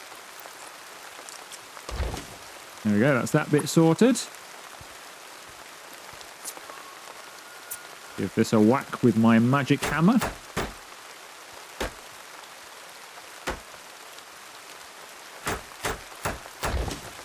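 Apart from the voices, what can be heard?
pouring rain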